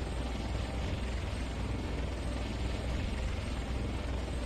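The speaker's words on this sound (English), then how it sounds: "we have some really cool sounds to this helicopter" A helicopter rotor in the game Unturned chops and whirs continuously at steady loudness, a dense close engine drone with no speech.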